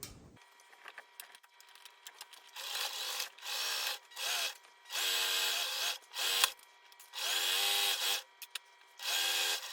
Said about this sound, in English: We're still on a straight stitch. And we will sew down this hem.